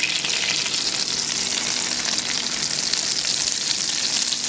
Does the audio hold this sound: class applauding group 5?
no